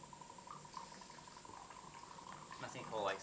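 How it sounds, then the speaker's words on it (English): Water poured into the sinkhole of a small karst groundwater model, a faint trickling and bubbling with a constant hum beneath, growing to a brief louder gurgle near the end. "let me put a little bit of water in my sinkhole."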